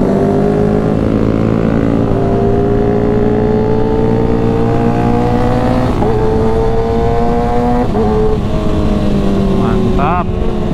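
Loud engines roar and rev continuously, pitch sliding up and down as high-revving Kawasaki ZX636 sport motorcycles pass close, with a crowd murmuring underneath.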